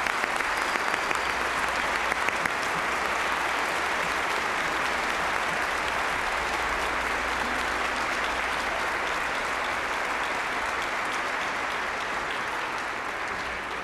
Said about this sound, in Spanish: ¡Fuerte aplauso para estos niños!